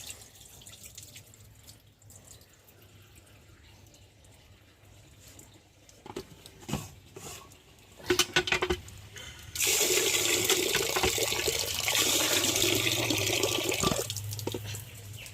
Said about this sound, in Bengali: ধুয়ে নিই চালটাকে ভালো করে, 2-3 বার ধুয়ে দিতে হবে।